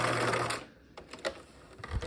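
Sewing machine backstitching backpack straps, a quick rattling run of stitches that stops, then a few short reversing bursts and clicks, close and moderately loud.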